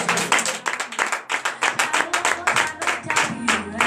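A church congregation at a morning prayer service in Benin claps together in acclamation, a steady run of fairly loud, rhythmic claps lasting several seconds with a faint murmur of voices underneath.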